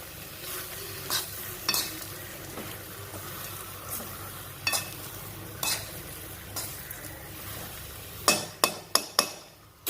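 Utensil scraping and stirring ridge gourd chutney ingredients in a pan, with irregular soft strokes and a quick run of sharper knocks near the end, close and moderately loud.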